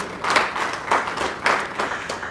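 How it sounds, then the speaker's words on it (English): Audience applause at an evening memorial lecture, a short stretch of clapping in uneven surges, moderately loud and close. "please, a round of applause for him, please"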